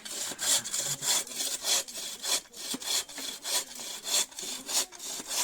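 A hand saw cuts firewood in steady back-and-forth strokes, a rhythmic rasping repeated about a dozen times, close by.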